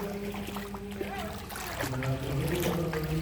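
Floodwater flows in a steady rushing wash, fairly close and continuous, with faint voices and other background sounds mixed in.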